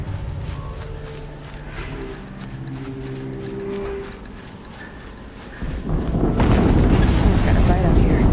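An explosion in the video game Horizon Zero Dawn erupts in a loud, sustained rumbling blast in the last few seconds, after a stretch of quieter tonal game sound.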